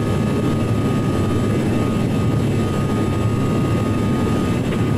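Jet airliner engines at climb thrust in Microsoft Flight Simulator X, on a Philippine Airlines departure climbing out of Manila, giving a steady, loud, broadband roar with a low rumble that holds unchanged throughout, with no talk.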